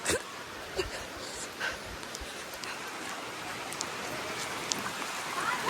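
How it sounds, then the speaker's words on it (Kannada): Heavy rain pours steadily in Mangalore, a dense, close hiss of drops on surfaces that runs throughout, with a few brief dog-like yelps rising above it. "ಜೋರಾಗೋಯ್ತು ಮಳೆ"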